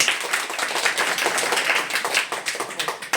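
A class of schoolchildren claps quickly and unevenly together, a bright, close patter of many small hands with no talk over it.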